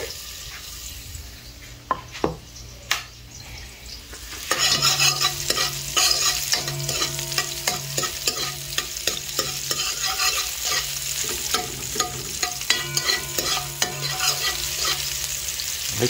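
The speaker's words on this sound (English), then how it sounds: "I am just burning onions." Onions fry in a pot for curry chicken, starting with a few sharp clinks and then a dense sizzle with frequent stirring scrapes and clatters, close and continuous with no talk.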